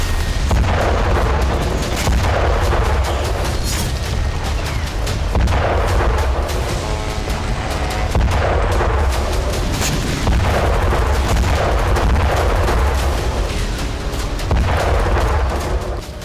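Heavy booms and blasts from an Iranian drone strike in Ukraine arrive in a dense, relentless barrage, loud and continuous, with repeated impacts layered over a rumbling low roar.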